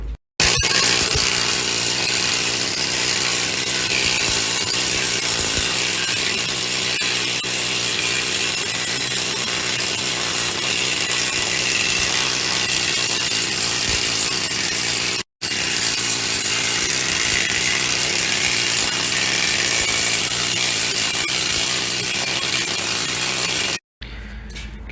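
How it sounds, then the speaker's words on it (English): A planishing hammer works a steel patch panel for a 1966 Dodge crew cab truck, a dense, loud continuous mechanical hammering that runs steadily for nearly the whole stretch with two brief stops, no talk. "I'm gonna run it on the planishing hammer just to kind of stretch this area"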